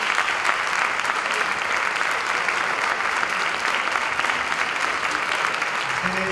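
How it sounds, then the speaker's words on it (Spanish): An audience at a band concert of cornets and drums bursts into loud, sustained applause, thick continuous clapping filling the hall evenly from start to finish. "pido un fuerte aplauso para el director musical Francisco López."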